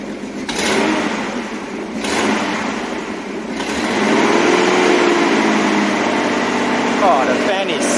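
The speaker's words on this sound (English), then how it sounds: "And how steady this engine is." 1977 Datsun 280Z engine idles steadily with a continuous even hum, close and loud, while a person speaks over it.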